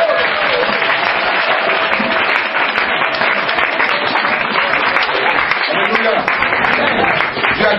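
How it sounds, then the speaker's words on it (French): A church congregation applauds and cheers to acclaim Jesus Christ, with loud, dense clapping and crowd voices that run steadily throughout. "On peut acclamer Jésus-Christ."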